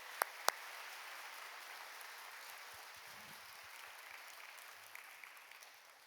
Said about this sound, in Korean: 여러분께 박수로 환영하시지요